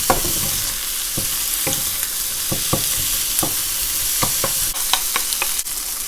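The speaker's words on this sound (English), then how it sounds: "Mix everything together. Break down the egg into smaller pieces." Egg being broken up and stir-fried in a pan for Chinese sausage fried rice, with steady sizzling under a quick series of spatula clicks and scrapes against the metal.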